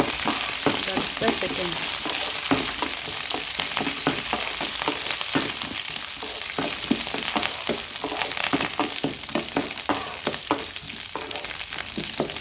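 Curry leaves and seeds fry in hot oil in a pan for vangibath, giving a dense, steady sizzle with crackles and stirring scrapes throughout, close and fairly loud.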